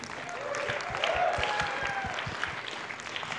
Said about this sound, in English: Let's do another round of applause for Tom and Ben Yaniv.